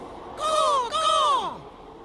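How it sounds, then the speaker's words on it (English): Two drawn-out, descending caws from a crow, loud and close, one right after the other. "Rip looked around, but all he saw was a crow."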